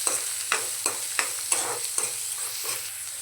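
Onions and green chillies fry in a pan, a steady low sizzle punctuated by regular scraping stirs roughly every half second, close and clear with no voices.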